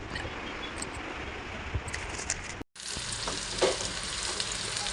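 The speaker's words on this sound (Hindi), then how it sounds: "इसके अंदर मैंने प्याज और ज़ीरा डाल दिया तेल के अंदर।" Onion and cumin fry in hot oil before okra is added. A dense, steady sizzle hisses throughout, broken by a brief gap partway through, with light stirring clicks.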